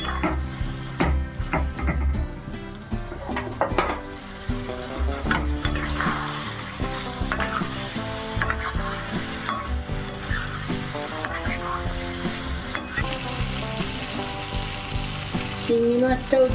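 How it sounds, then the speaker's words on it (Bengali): Potato and elephant foot yam pieces fry in a pan while being stirred, a continuous close sizzle broken by repeated scraping and clattering of a utensil against the pan in an uneven rhythm. "এবার এই আলু ওল সব দিয়ে দিলাম, দিয়ে এবার এটাকে নাড়বো।"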